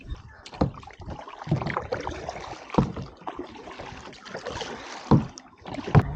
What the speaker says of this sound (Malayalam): നമ്മളിപ്പോൾ കയാക്കിങ് ചെയ്ത് പോവുകയാണ്